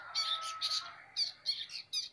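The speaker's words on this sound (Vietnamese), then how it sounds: "Nó bắt chước tiếng kêu của những loài chim khác rất là giỏi đấy, loài chim bách thanh ấy." A shrike calls near its nest in a coffee shrub, giving a series of bright, clear chirping phrases with short pauses between them, close and fairly loud over a quiet background.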